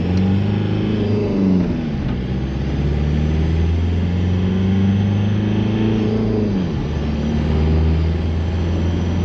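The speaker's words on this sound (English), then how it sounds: "Do you hear all them turbo noises?" Engine and turbo sound from a Toyota Tacoma with a TDI diesel swap: a steady, loud diesel drone with rising and falling revs and a dip near the middle, heard continuously with no talking.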